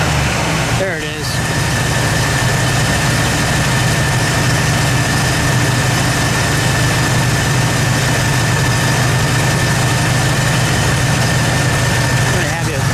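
A 1970 Oldsmobile Toronado GT with its 455 V8 idles loudly and steadily at close range, a constant low engine drone through the whole stretch, with talk mixed in.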